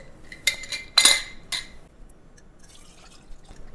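Spiced sweet vermouth is strained into glass jars, a few sharp clinks of glass and metal followed by soft pouring and dripping liquid, close and clear with no talking.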